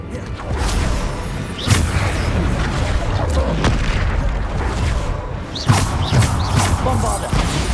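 Bombarda explosion spells cast during Hogwarts Legacy gameplay, with repeated heavy booming blasts scattered across a dense, noisy battle bed, several sharp impacts standing out loudly against the continuous combat din.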